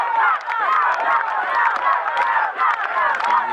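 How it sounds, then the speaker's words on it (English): A football crowd at a State League One grand final roars and cheers in a dense, continuous wash of voices, loud and sustained with scattered shouts rising above the din. "You can hear the crowd here in full voice."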